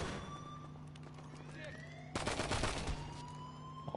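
Gunfire in the GTA Online game: a burst of loud, rapid shots breaking in midway over a steady siren wail, with voices speaking.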